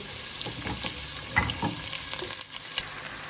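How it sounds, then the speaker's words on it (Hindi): Chopped onions go into hot oil in a pan while cooking an aloo baingan curry, giving a steady, moderately loud hiss and sizzle with a few soft clinks of a spoon against the pan. "तो अब मैं इसके अंदर बिस्मिल्लाहिर्रहमानिर्रहीम प्याज शामिल करूँगी।"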